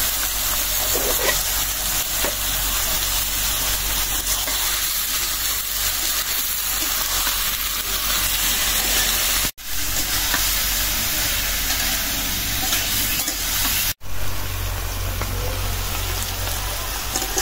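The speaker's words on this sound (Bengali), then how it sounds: "আলুটা হাফ ভাজা নিলাম" Half-fried potatoes with onions and green chillies sizzle and crackle in a pan while being stirred, a steady close frying hiss throughout with two brief cuts to silence.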